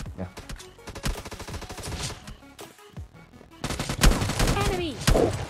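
Rapid bursts of gunfire crackle through a PUBG Mobile Lite match, dense and loud, with music and game effects underneath and a short gap of near silence midway.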